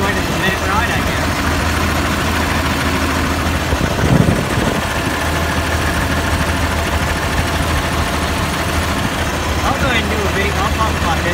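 A 1555 runs while driving with its muffler loose, a steady low rumbling drone heard close and continuous, with a brief louder clunk partway through.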